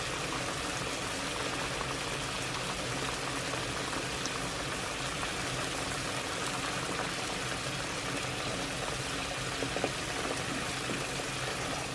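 A pan of vinegar, soy sauce and water for adobong sitaw with pork belly boils at a steady, dense bubbling roar, close and continuous throughout with no talking.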